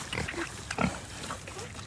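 Idaho Pasture Pigs give a few low, soft grunts at close range, short and irregular, over a quiet outdoor background.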